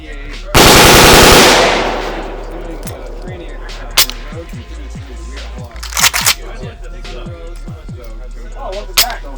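An AK rifle fires a rapid burst at an outdoor shooting range, loud and close, followed by several single sharp shots spaced out, with people talking between them.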